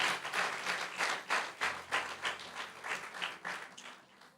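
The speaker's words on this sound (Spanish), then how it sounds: "Por eso, dar un aplauso fuerte a Jesús." A church congregation applauds, clapping in a rhythmic, pulsing pattern of roughly regular bursts, fairly faint and distant, with no voices on top.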